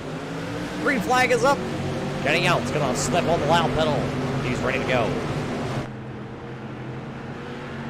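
An SK Modified race car in the iRacing video game accelerates off the green flag at Oxford, its engine a steady droning hum beneath a commentator talking throughout.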